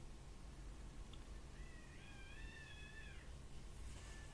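A cat outdoors lets out one drawn-out, wavering meow, faint and distant against a steady background hiss.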